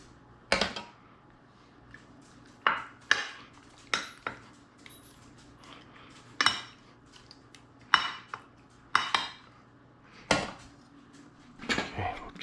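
Sauce being spooned over layered lasagna noodles in a pan, heard as a series of sharp, close clinks and scrapes of a utensil against the dish, spaced irregularly about once a second with faint kitchen background.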